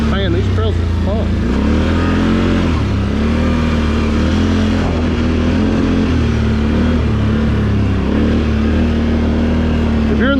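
A 2023 Can-Am Outlander 850 XMR ATV rides dirt trails at Lake Murray, its engine droning loud and close with a steady low throb and repeated revving surges that rise and fall in pitch.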